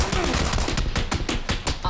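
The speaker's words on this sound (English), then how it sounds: "I missed all my shots." Rapid gunfire in a shooter video game, a fast run of sharp, loud shots in an irregular burst filling the whole moment, with faint voice chatter underneath.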